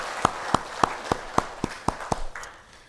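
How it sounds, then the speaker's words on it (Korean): A church congregation at a Thanksgiving Sunday service claps in thanks: about eight sharp, evenly spaced claps in a steady rhythm, close and clear, trailing off at the end. "감사의 박수 한번 하도록 하겠습니다"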